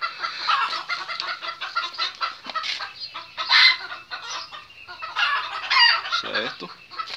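A flock of hens clucks and cackles steadily, close and loud, with occasional higher squawks breaking through the constant chatter.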